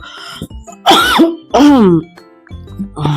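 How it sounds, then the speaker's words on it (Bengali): Several harsh, throaty coughs burst out close to the mic, with short pauses between them and a rough, strained edge. "প্রচুর কাশি হচ্ছে,"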